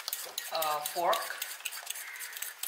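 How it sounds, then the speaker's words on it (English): A fork whisks three eggs with sugar in a bowl for a traditional Chinese steamed cake, giving a quick run of clinking, scraping strokes close by, with a brief tonal squeak partway through and no talking. "to beat the sugar and egg"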